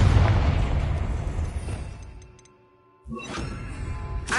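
A Confringo spell explosion in Hogwarts Legacy: a loud, close blast that rumbles and fades over about two seconds into near silence, then a second sharp burst and crackling debris.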